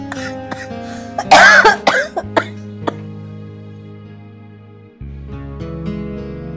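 An elderly woman coughs in a harsh burst of several hacking coughs, followed by throat clearing and a few smaller coughs in a quiet indoor room.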